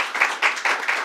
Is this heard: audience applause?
yes